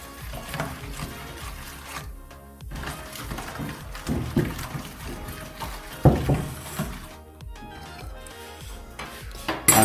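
Salt and cooking oil are stirred together in a bowl for bread dough, with repeated clinks and scrapes of a utensil against the dish that rise and fall irregularly over ten seconds, without speech.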